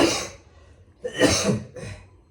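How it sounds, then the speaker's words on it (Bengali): A feverish person coughs in three separate bursts, close and clear, with short quiet gaps between each harsh, throaty cough. "আর এত কাশছে"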